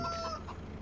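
Chickens and roosters in Farming Simulator 22 cluck in a brief burst of farmyard fowl calls, moderately loud and close, with no voices present.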